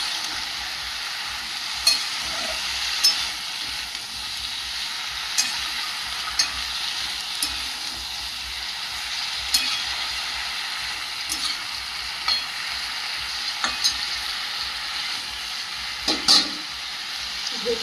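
Vegetables for a pumpkin curry sauté in a pan with a continuous close hiss and sizzle, broken by a few sharp taps and scrapes of a stirring spoon; no voices.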